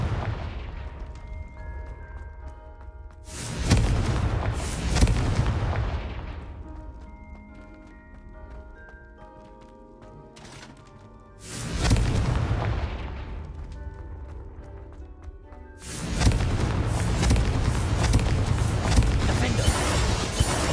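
Three heavy blasts of the Confringo fire spell boom out in Hogwarts Legacy, each a loud burst that rumbles and fades, with quieter game sounds and music between them.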